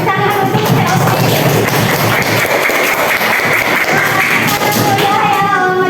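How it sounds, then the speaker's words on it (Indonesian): Sustained applause from students in a classroom, loud and dense for several seconds, with many hands clapping at once. "Ya, tepuk tangan untuk Selfie."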